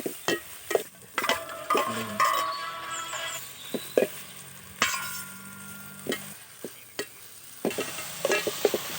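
Onions sizzle in hot oil for a Kerala-style beef curry, a soft frying hiss broken by frequent sharp scrapes and clinks of a spoon against the pan, close and irregular.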